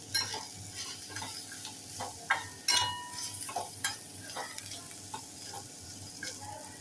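Garam masala, turmeric, coriander and unpeeled raw mango sauté in a hot pan, with steady sizzling broken by repeated sharp spoon scrapes and stirring clatter, with no talk.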